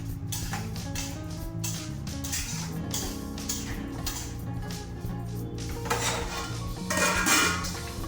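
Potatoes with turmeric are stirred in a pan for alu posto, with a spoon clattering and scraping against the metal in uneven bursts, then a lid clanks as the pan is covered.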